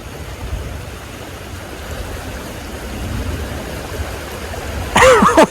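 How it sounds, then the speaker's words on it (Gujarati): Continuous low rushing of floodwater after rain, steady and moderately loud, with a voice briefly speaking near the end. "જોઈ લ્યો પાણી કેવડું આવેલું જાય છે"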